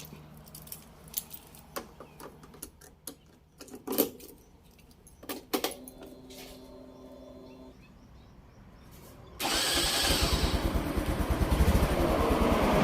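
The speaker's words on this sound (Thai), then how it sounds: "เดี๋ยวลุงเอลอง สตาร์ทเครื่องแล้วจะเปิดไฟให้กับเพื่อนๆดูนะครับ" A Honda Wave 125i motorcycle with touring accessories starts up near the end, its engine catching and settling into a loud steady idle after earlier jangling keys and small handling clicks.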